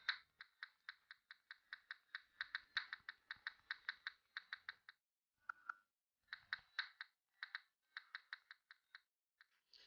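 Fingers type a search on a computer keyboard, quick bursts of crisp, close key clicks with a brief pause midway, no voices.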